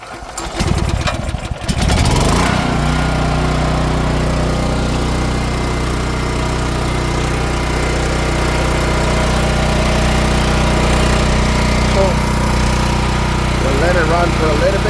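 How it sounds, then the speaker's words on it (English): A small generator engine starts on choke with a few rough sputters, then settles into a loud, steady, even drone that continues to the end. "Let's put it on choke."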